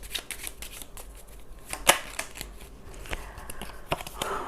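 Tarot cards being shuffled and drawn: a soft, continuous riffling and flicking of cards up close, with a few sharper snaps, and no voices.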